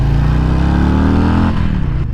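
A 2020 Harley-Davidson Breakout with its stock exhaust rumbles loudly and close by in a deep, steady engine note. The pitch sags a little about two-thirds of the way through, then the engine carries on.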